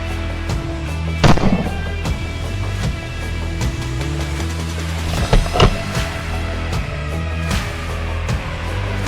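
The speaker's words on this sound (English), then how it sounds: "The sound of gunfire echoes across the valley" Scattered sharp gunshot cracks echo across a valley over a loud droning hum, a few isolated reports spaced several seconds apart, fired at feral hogs on farmland.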